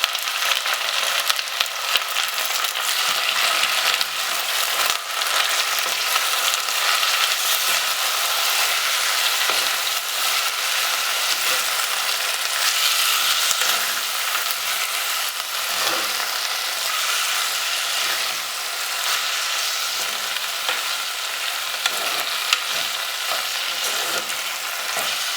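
Chopped amaranth leaves sauté with salt in a hot pan for a Kerala cheera curry, giving a steady, loud, even sizzle that runs unbroken from start to finish with no voices.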